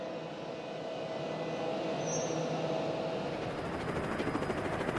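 A Channel Tunnel shuttle locomotive in the maintenance shed at the French terminal gives off a steady, loud droning hum with a rising high whine and faint rhythmic pulsing, with no talk.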